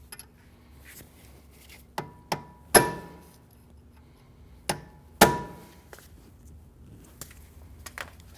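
A metal punch struck with a hammer to stake the axle nut tab into its slot on a 2012-2016 Honda CR-V rear hub: a few sharp, ringing metallic blows spaced irregularly, close and alone.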